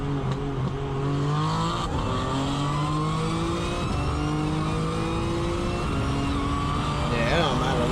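BMW G80 M3 engine racing a Dodge Demon 170, heard as a continuous loud engine roar with rising revs and gear-change pitch steps, with voices talking over it.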